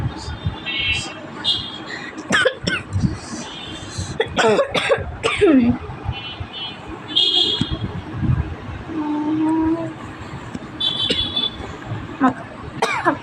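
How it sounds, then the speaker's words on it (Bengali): Someone coughs several times in quick harsh bursts, mixed with talking and a busy, noisy background. "কাশি অনেক।"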